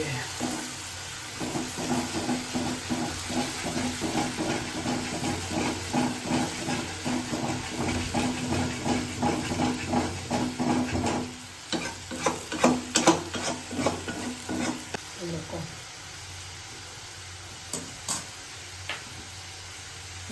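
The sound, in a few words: onions frying in a pan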